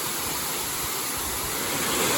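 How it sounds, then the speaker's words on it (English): Bushkill Falls pours in a steady, dense rush of falling water, a constant broadband roar heard close and alone with no voices. "This waterfall is above the other one."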